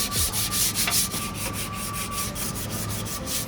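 Close, loud rhythmic rubbing of 220-grit sandpaper on a dashboard in a Mustang widebody build, quick repeated back-and-forth strokes with an even scratchy texture.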